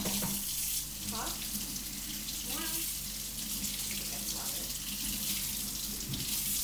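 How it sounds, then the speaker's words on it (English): Hot water runs steadily from a tap into a bowl while making icees, a continuous rushing hiss with faint background voices and small clinks. "so right now we are adding hot water in because the ice froze again."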